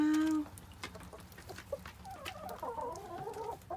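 A tame hen clucks close by while laying an egg, soft throaty clucks with a brief higher call at the start, and no one talking.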